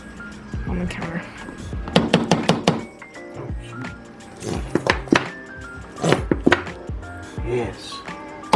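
A plastic barbecue sauce bottle is banged on a kitchen counter while cooking meatloaf, giving several sharp thuds in quick bursts, mixed with spoken talk and light kitchen clatter.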